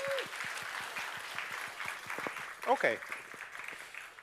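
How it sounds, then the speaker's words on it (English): Audience applause for a speaker at a Flutter developer conference main stage, steady clapping filling the room while a presenter briefly speaks over it near the end. "So give an applause to Slava."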